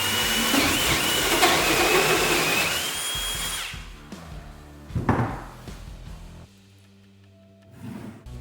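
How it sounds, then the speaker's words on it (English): Bosch GRD18V-127 right-angle drill driving a large hole saw through a wall for a dryer vent: a loud steady whine and grinding for about four seconds, then stopping, followed by clunks and handling noises. "let's see how it does drilling a big hole for a dryer vent"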